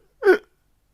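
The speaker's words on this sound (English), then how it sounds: "all we get separating everything in the show is just a fart." A short fart sound effect used as a transition in an XPW pro wrestling show, a single brief burst lasting under a second and standing alone against silence.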